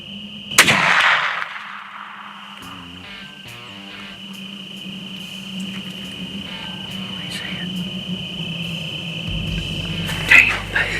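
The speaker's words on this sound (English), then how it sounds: "One shot, he fell out dead on camera." A single loud rifle shot rings out during a deer hunt, a sharp blast near the start with a brief decay, followed by quiet outdoor ambience with steady insect chirping and faint voices later.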